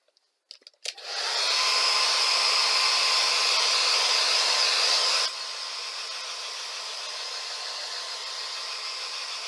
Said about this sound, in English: It's a pink hairdryer because I stole it from the ex-wife.